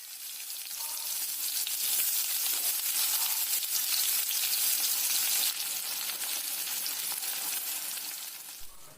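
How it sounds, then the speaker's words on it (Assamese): Onions frying in hot oil in a kadai for an Assamese taro-leaf and mango chutney give a loud, steady, close sizzle that holds for about nine seconds and then tapers off at the end, with no talking. "তেলখিনি গৰম হৈ গ'লে মই ইয়াতে দিম পিঁয়াজ।"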